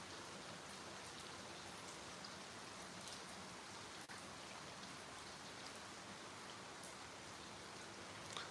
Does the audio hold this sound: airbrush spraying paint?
no